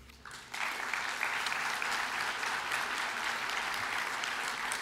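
Audience at a Paris conference for World Parkinson's Day breaks into applause after a brief quiet moment, a sustained, even clapping from a large crowd heard at some distance.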